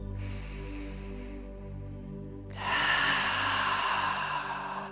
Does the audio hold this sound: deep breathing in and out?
yes